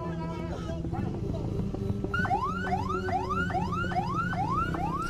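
An ambulance siren wails in repeated rising-and-falling sweeps on a Jakarta street beside traffic, loud and close, over a busy mix of engines and background noise.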